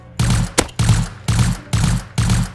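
Gunfire in the video game Rust: about five loud, evenly spaced bursts of rapid shots with short gaps between them, plus one sharp single crack early on, close and punchy.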